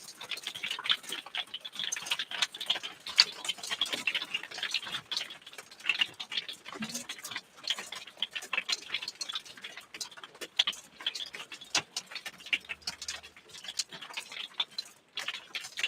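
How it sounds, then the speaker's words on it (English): Heavy hailstorm with large hailstones striking hard surfaces, a dense, continuous clatter of sharp ticks and knocks at steady loudness with no talking throughout. "Must be some awfully big hail."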